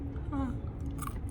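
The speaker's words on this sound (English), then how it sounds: "I'm sorry about all the noise of chewing" Close, wet chewing and crunching of a pecan, with short bites and mouth noises and a brief murmured vocal sound.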